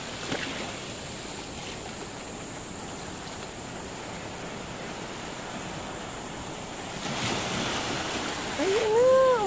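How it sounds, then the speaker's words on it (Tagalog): Broad, constant rushing of strong sea surf on a shore along Burgos Road, Ilocos Norte, swelling louder near the end as a wave surges in, with a faint voice at the close. "Ang lakas ng alon."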